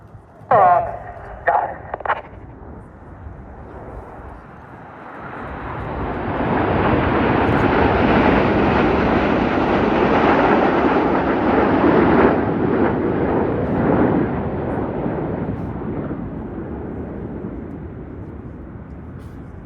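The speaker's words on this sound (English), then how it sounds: "the aircraft are flying with their air brakes out" Red Arrows jets streak past with air brakes extended at an air show, a long roaring swell that builds over several seconds, holds loud, then fades slowly, after a few sharp knocks at the start.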